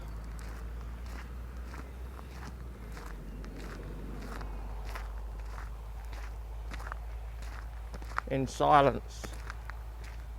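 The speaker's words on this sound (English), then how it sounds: "except for the footsteps you hear" Steady, evenly paced footsteps of marchers tread uphill on Mingenew Hill on Anzac Day while someone talks quietly over them; a brief rising whine cuts in near the end.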